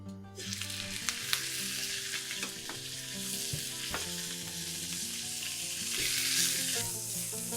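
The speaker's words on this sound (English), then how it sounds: "we're gonna have very hot pan. Use olive oil. Time to transfer turkey legs into the pan." Turkey legs searing in a very hot pan with olive oil, a bright, intense sizzle that swells and crackles with occasional pops and utensil clinks, close and without talking.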